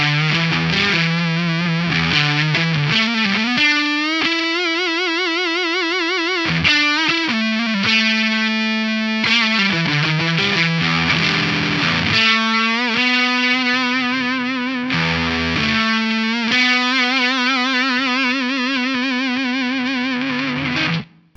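Electric guitar played through a Boss HM-2w distortion pedal, heard first without and then with a compressor ahead of it; loud, saturated chords and sustained notes ring out continuously, with brief gaps between phrases and no talking.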